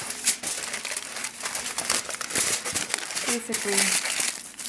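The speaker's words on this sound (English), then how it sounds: "But I'm just going to take foil." Aluminium foil crumpled and folded by hand to wrap food during meal prep, a close, busy crinkling that runs throughout with brief speech over it.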